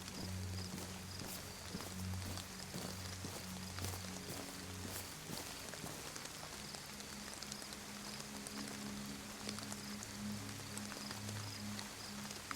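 Steady rain patters in a roleplay video game, a quiet continuous hiss with soft clopping and footstep-like thuds mixed in beneath it.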